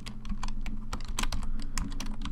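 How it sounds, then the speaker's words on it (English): Steady, rapid typing on a computer keyboard while writing Python code, with close, crisp keystrokes continuing alone throughout. "I can't type"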